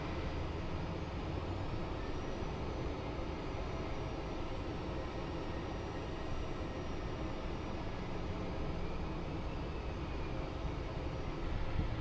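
Steady broadband engine and airflow roar fills the cockpit of a Phenom 300E jet as it readies to taxi, a constant loud drone with no speech.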